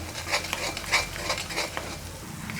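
Cracked egg stirred with vegetables in a frying pan for an egg poriyal: soft sizzling frying with a rhythmic series of spatula scrapes against the pan, close and fairly quiet, no voices.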